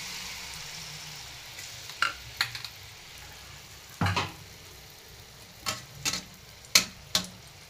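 Malpua batter sizzling in hot oil, a soft steady crackle with several sharp clicks and taps scattered through it, like a utensil knocking the pan, close up and fairly quiet.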